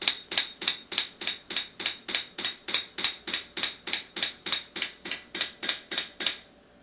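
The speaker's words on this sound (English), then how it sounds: "Hey, that's a nice hammer." A hammer strikes metal more than twenty times in a steady, even rhythm, each blow a sharp bright ring that decays quickly, close and loud with no talking.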